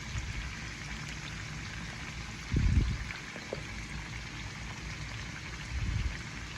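Potatoes frying in a loaded pan give a steady, fairly quiet sizzle and crackle, broken by a couple of brief louder low thumps.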